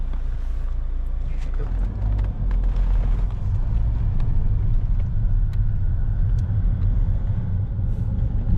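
Steady road rumble and engine drone fill the inside of a moving car on country roads, with faint ticks and knocks over the constant low noise.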